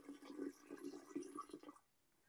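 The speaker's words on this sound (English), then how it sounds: "So I'm adding some hot water to our primary fermenter." Hot water streams and splashes into a plastic primary fermenter bucket for a homemade chocolate cherry wine, a steady close pouring rush that stops abruptly near the end, with no talking.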